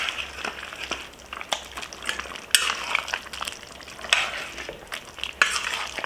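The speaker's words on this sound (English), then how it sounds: "Let's continue to stir." Chicken curry stew being stirred in a pot, with a spoon scraping and clinking against the metal in irregular strokes over a steady low sizzle, close and fairly loud.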